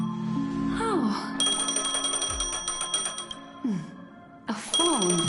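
A phone rings in Honkai: Star Rail, bright repeating bell-like trills layered over swooping musical effects and ambient game sound, loud and up front, returning after a brief lull.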